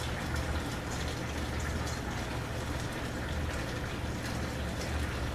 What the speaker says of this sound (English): Then I add about 2 tablespoons of balsamic vinegar